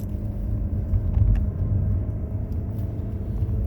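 A 2020 Mazda CX-30 heard from inside the cabin as it drives through turns at about 45 mph, a steady low road and engine rumble with tire noise, no talking.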